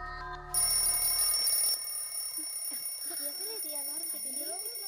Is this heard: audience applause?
no